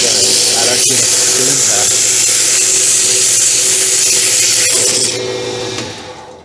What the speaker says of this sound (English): What I'm going to do now is just run the sandpaper over it just a tiny bit